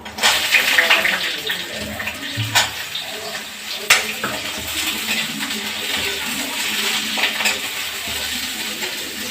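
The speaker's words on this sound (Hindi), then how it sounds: "अब मेरी परवल डाल दे रही हूँ।" Pieces of pointed gourd (parwal) dropped into a hot pan burst into loud, bright frying hiss with clattering stirring, close up and settling into a steady sizzle in a home kitchen.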